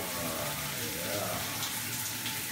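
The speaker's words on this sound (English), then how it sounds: "And we can just rinse this off." Shower water runs steadily over a waterproof skin device during rinsing, a constant broadband hiss and patter with no breaks, close and moderately loud.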